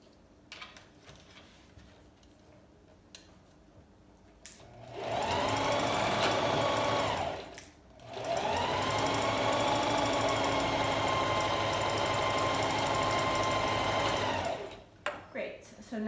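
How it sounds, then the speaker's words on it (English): A sewing machine stitches straight across a fabric scrunchie in two steady bursts, loud and close, with a brief pause between them. Quiet handling noises come before and after. "I'm gonna go ahead and sew straight across, again, reversing when you start and reversing when you finish sewing"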